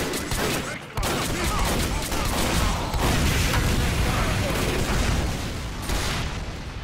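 Rapid gunfire from a team-based shooter game match, a dense continuous barrage of shots and booms filling the clip with one brief break, loud and close, while a commentator talks over it.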